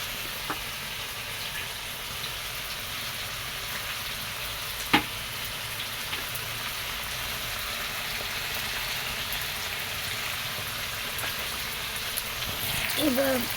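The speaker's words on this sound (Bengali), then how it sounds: "মশলা দিয়ে ভালো মতো কষাই নিলাম" Spices frying in a pot for khichuri and meat, a steady close sizzle and crackle that runs without a break, with one sharp clink partway through and a brief rustle of stirring near the end.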